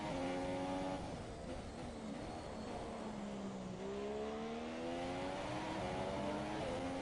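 A Formula 1 car engine drones in the F1 2017 video game at the Bahrain circuit, a continuous high whine whose pitch dips and then climbs as the car accelerates, steady and loud with no talking.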